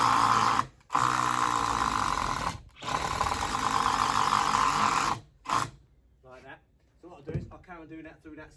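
A power drill drives screws into a wooden lintel for a garden room front wall, running in two long loud whirring bursts with brief pauses, then a short final burst before quieter handling noises.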